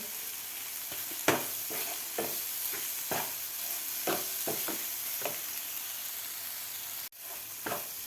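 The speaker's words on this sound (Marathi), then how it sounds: "अशा पद्धतीची केलेली अंड्याची भुर्जी खूप छान लागते व्यवस्थित परतून घ्यायचं आहे" Egg bhurji with tomato, onion and spices being sautéed in a pan, a steady close sizzle broken by regular stirring scrapes and taps of a spatula.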